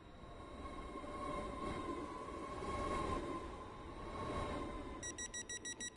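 Train in a Roblox railway game running past with a steady rolling rumble and rail noise that swells and fades, then ends in a short run of regular chime-like beeps.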